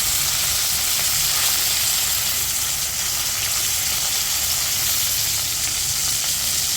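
Pieces of rohu fish fry in a pan with a steady, close, bright sizzle of hot oil that holds at a constant level throughout, with no voices.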